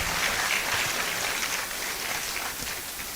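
Audience applause at a university pharmacy white coat ceremony in Cape Coast, a dense, steady clapping from a large crowd that fills the whole stretch and eases slightly toward the end.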